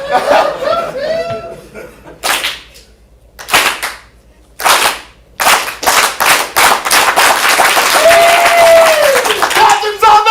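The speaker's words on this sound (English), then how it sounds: "I just want to clap." Bursts of audience clapping at a ComedySportz improv comedy show in Portland, several loud separate rounds of applause with short quiet gaps, then sustained clapping with laughter and talk mixed in.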